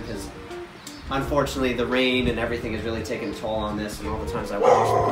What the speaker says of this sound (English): So that's my dog barking.